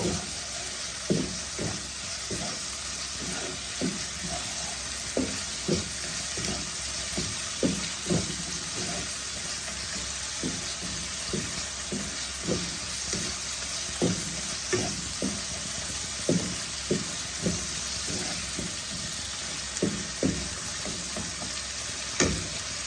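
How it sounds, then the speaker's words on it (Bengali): Spice masala fries in oil for a Bengali chitol fish kalia, with a constant close sizzle broken by regular scraping stirs of a spoon in the pan. "মশলা আমার ভালোভাবে কষে গিয়েছে।"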